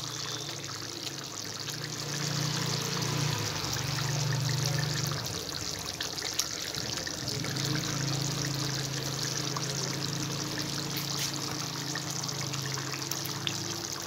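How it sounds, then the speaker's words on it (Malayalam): Milk being poured into a chicken curry in a pot: a steady, continuous liquid trickle and gurgle lasting throughout, close and moderately quiet, no talk. "ഞാൻ ആദ്യ പാൽ ഒഴിക്കുകയാണ്"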